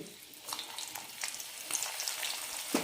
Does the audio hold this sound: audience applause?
no